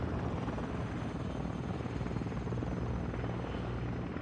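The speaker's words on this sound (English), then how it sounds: "I can hear the helicopter." A helicopter in the video game Warzone 2.0 flies overhead, its rotor producing a continuous, loud, rumbling whir that holds steady throughout.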